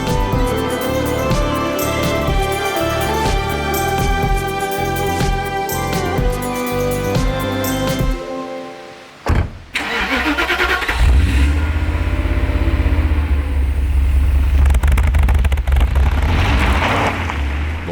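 The engine of a Mercedes SL500 under restoration runs with a loud, dense mechanical roar that cuts out briefly and restarts with a thump, then settles into a steady, vibrating rumble.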